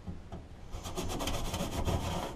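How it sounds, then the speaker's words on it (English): Rust scraped from the bare metal of a car heater box, a close, gritty, rapid back-and-forth rasping that starts faint and grows steady and louder. "get all that bare metal or all that rust off of there and clean it up as best you can"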